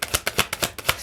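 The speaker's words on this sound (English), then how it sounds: "we have to shuffle for one more card" Tarot cards shuffled by hand in quick riffling bursts, about eight crisp, papery flicks in a steady rhythm, close and fairly loud with no voice over them.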